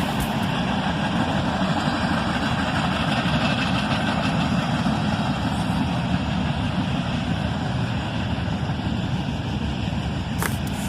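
A Norfolk Southern mixed manifest train hauled by a pair of Dash 9 locomotives rumbles past at a distance, a steady low engine drone with constant wheel and rail noise throughout.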